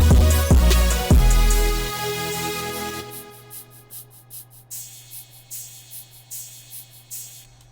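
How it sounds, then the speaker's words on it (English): A heavy hyperpop-style drum beat with booming low hits and crashing cymbal wash, giving way to a steady, rhythmic shaker pattern over a low sustained tone. "I added some cymbals too, some more and some shakers, so it sounds like this"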